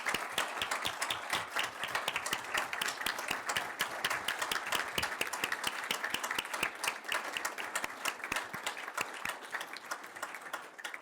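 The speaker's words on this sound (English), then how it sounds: "Applause would be appropriate." Sustained applause from a room of people at a city council meeting, dense steady clapping at moderate distance filling the whole stretch and tapering slightly at the end.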